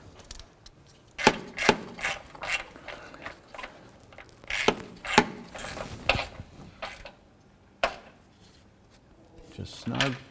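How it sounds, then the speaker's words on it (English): Intermittent ratchet clicks and clunks while bolts are snugged on a 2012–2017 Toyota Camry windshield washer reservoir, fairly quiet and irregular, with a person talking between strokes. "I'm going to go ahead and snug up these bolts right here."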